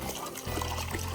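Hot spring water trickles and pours steadily into an outdoor soaking tub on a remote desert highway stop, a close continuous splashing stream with a slight change in flow partway through.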